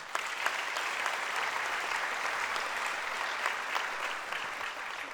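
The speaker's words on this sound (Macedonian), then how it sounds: "Следниот аплауз е за спонзорите" An audience applauds at the closing ceremony of the Vojdan Chernodrinski theatre festival in Prilep, with dense, sustained clapping from a crowd that stays even throughout.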